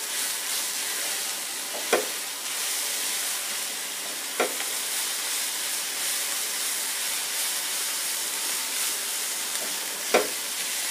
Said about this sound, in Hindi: तो मसालों को भी अच्छे से भून लेंगे।